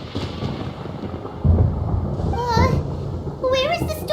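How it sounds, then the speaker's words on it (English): Thunder rumbles through a storm in the Genshin Impact video game, a loud low roll building partway through and continuing under a child-like voice and other game sounds. "Paimon hears thunder!"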